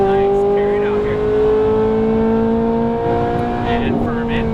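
A Ferrari 458 Italia howls around the Las Vegas Motor Speedway track at Exotics Racing, its loud, steady, close engine tone holding high revs, then briefly dipping and climbing again, with a voice speaking over it.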